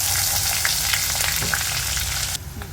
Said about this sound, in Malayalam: വെളിച്ചെണ്ണ ചൂടായി നമ്മൾ പെരിഞ്ചീരം ഇട്ട് കൊടുക്കുകയാണ് അതിനുശേഷം ഗ്രാമ്പൂ പട്ട അങ്ങനെയുള്ള മസാലകൾ ചേർത്തു